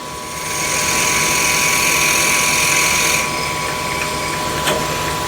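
A steady mechanical whir of a lathe drilling a hole with a 6.5 mm drill bit, with a high whine that cuts off partway through and a brief tick near the end.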